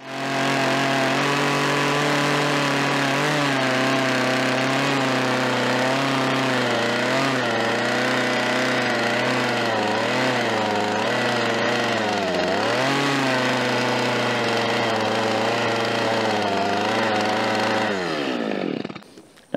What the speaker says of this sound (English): I can take my little saw with the carving bar, and I can reshape that just a little bit to give it more of a natural look